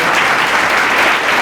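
Applause from an audience at a Marathi speaking event, a dense, steady clatter of many hands clapping that holds at even strength throughout with no voices over it.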